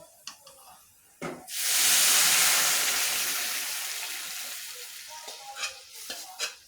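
Lentil dal poured slowly into a hot spiced tempering on a switched-off stove erupts in a loud, hissing sizzle that swells after a couple of soft clinks and then gradually fades, with a few stirring knocks near the end.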